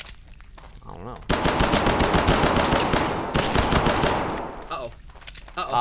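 Sustained automatic gunfire in a spelunking horror video game, loud and rapid bursts running for several seconds after a brief quieter moment, then tapering off.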